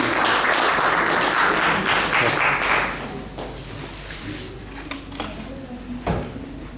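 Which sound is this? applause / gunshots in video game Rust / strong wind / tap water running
applause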